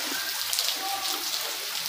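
Light drizzle makes a steady, soft, even hiss of rain throughout, with faint scattered drops and no clear talking.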